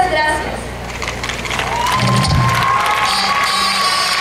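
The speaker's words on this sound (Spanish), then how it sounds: "Que se escuchen los aplausos para Alessandra Bernet Pascual Orozco" Loud crowd cheering and applause at a coronation ceremony for the Feria de la Naranja in Oaxaca, with whoops and shouts rising and swelling across the whole stretch.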